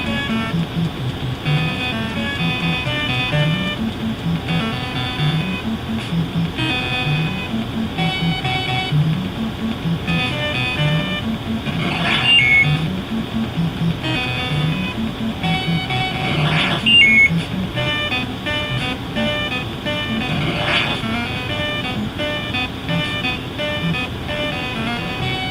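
A car drives in the NES Ghostbusters video game as a steady chiptune engine drone, with looping beeps and musical tones running continuously throughout.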